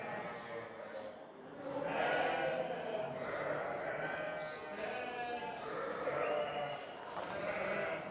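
Merino sheep, rams and lambs bleating repeatedly on a breeding farm, several overlapping calls close by over steady flock noise and some faint human voices.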